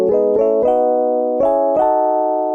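Synthesized chords from an Ableton Expressive Chords preset play in sequence, five sustained diatonic chords struck one after another with soft attacks, clean and alone.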